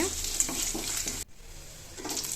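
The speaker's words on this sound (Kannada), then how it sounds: "ಹಸಿರು ಮೆಣಸಿನ್ಕಾಯಿ ಈರುಳ್ಳಿ ಎಲ್ಲ ಚೆನ್ನಾಗಿ ಫ್ರೈ ಮಾಡ್ಕೋಬೇಕು" Green chillies and onion frying in a pan for capsicum and green peas upma: a close, busy sizzle with stirring scrapes, briefly dropping away midway before resuming, no voices.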